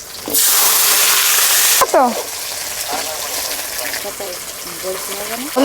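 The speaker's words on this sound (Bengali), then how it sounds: "তেল গরম হয়ে গেছে আলু দিয়ে দিচ্ছি" Potatoes dropped into hot oil for a katla fish curry set off a loud, steady sizzle that fills the first seconds. The sizzle then settles into a softer bubbling fry, with a voice talking over it.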